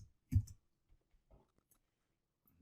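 A few computer mouse clicks while editing a macro in Excel, one sharper click near the start followed by fainter scattered clicks, close and quiet with no talking.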